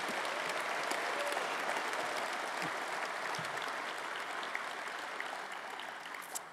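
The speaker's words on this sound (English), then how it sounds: "I think Anne Sardesay deserves a round of applause" Applause from a large audience at a CQUniversity graduation ceremony in Sydney, a dense, even wash of many hands clapping, heard at some distance and slowly tapering toward the end.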